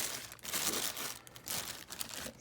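Crinkling of a loosely closed plastic bag wrapped around a Roundhouse Engineering Sammie model locomotive, close and continuous, with bursts of rustle and crackle throughout.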